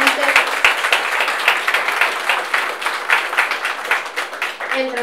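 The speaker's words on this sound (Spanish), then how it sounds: "un aplauso para ellas" An audience at the launch of World Breastfeeding Week in the old civil hospital applauds, steady, moderately loud clapping from a crowd that carries on for several seconds with a few sharper hand claps up close.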